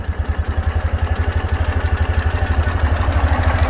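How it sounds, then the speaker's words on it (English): The pushrod engine of a 2015 Ural Gear Up motorcycle idles up close, loud and even, with a rapid, regular thumping beat and light mechanical clatter, and no voices over it. "Let you hear the engine running uninterrupted for a moment here."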